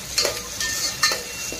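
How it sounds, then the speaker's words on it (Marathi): Tomatoes frying in a pan, a soft continuous sizzle broken by a few scraping strokes of a stirring spoon, close and clear with no voices. "टोमॅटो पण चांगला मऊ होईपर्यंत फ्राय करून घेऊया 2 मिनिटं"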